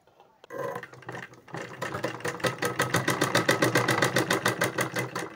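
A sewing machine stitching frills onto a Rapunzel-style sleeve runs in a fast, steady rhythmic chatter after a brief start. It is close and fairly loud, with no voices.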